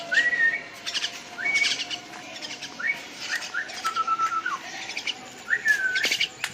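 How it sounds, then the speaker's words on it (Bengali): Pet birds give sharp repeated chirps and rising whistled calls in short bursts as they fly in, fairly close against a quiet background, with a few faint wing flutters. "তোমরা দেখতে পাচ্ছ আমার পাখিগুলো কিভাবে চলে আসলো"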